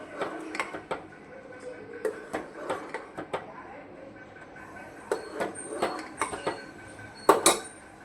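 Water being stirred in a pot for homemade kesuda and besan soap, with intermittent scraping and clinking of a utensil against the pot, faint between the louder knocks.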